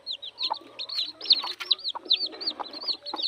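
Red junglefowl chicks peeping in a busy overlapping chorus, with rapid high rising-falling chirps and some softer low clucks mixed in, close by and lively throughout.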